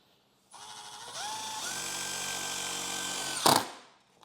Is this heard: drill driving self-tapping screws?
yes